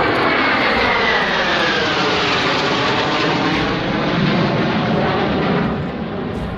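Fighter jets such as Mirage and Sukhoi roar low over an expressway, a loud, sustained engine blast that fills the air and sweeps past, easing off slightly near the end.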